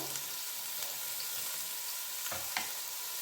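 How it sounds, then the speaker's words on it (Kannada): Onions with green chillies, curry leaves and mint leaves fry in hot oil, giving a steady close sizzle with a couple of brief stirring scrapes and no talking. "ಹಾಗೆ ಪುದೀನ ಸೊಪ್ಪು ಈರುಳ್ಳಿನಲ್ಲೇ ಹಾಕಿ ಚೆನ್ನಾಗಿ ಫ್ರೈ ಮಾಡ್ಕೊಂಬೇಡ"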